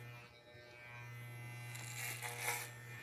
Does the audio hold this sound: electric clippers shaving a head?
yes